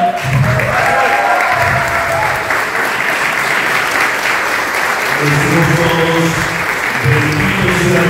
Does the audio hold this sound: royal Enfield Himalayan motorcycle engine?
no